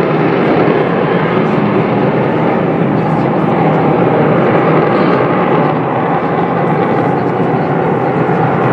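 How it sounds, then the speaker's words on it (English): An Avro Vulcan B.2 jet bomber, XH558, roars at full power at the Farnborough International Airshow, a loud, steady broadband engine thunder with a brief howl, heard from the crowd. "There, you've got a very brief Vulcan howl."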